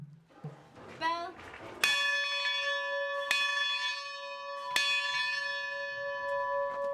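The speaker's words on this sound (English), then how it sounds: "Bell." A monastery bell is struck three times, close and resonant, and each long metallic tone rings on and slowly decays. Brief voices and rustling come before the first strike.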